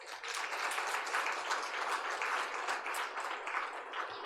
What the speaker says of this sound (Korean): 뜨겁게 박수 한번 하실까요?